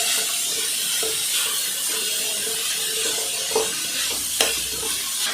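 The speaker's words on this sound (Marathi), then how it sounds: "सगळं म्हणून व्यवस्थित असं परतून घ्यायचं आहे." Carrots and mixed vegetables for cutlets sauté in a pan, a dense, even sizzle up close with a couple of brief scraping stirs near the end and no talking.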